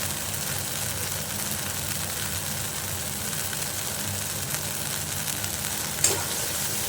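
Turmeric and spices sizzle steadily in a pan of frying oil for an olive chutney, a continuous close hiss with faint stirring scrapes and one brief clink near the end.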